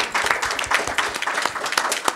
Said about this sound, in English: we at least need to applaud that effort